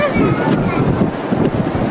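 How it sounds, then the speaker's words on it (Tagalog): Strong wind roars and buffets the microphone throughout, a constant low rumble with gusty surges, with faint voices underneath. "Ang lakas ng hangin!"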